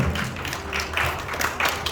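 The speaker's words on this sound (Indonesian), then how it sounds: "Tepuk tangan dong buat teman-teman kita tadi yang testimoni" A church congregation at a Sunday sermon claps for the people who gave testimonies, producing a short burst of dense, fairly close clapping with a few louder thuds.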